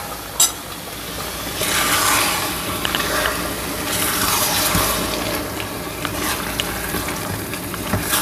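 Water poured into a pan of simmering masala gravy, a steady broadband pouring and sizzling wash lasting several seconds, near and fairly loud with surges, no talk.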